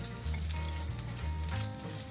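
Onions sizzling and frying steadily in an iron pan, a loud continuous crackle with low stirring thumps shifting underneath, no voices.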